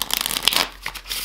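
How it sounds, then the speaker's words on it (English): A deck of playing cards riffles and flutters rapidly in a close, crisp burst of shuffling, with no voices. "You can shuffle the pack."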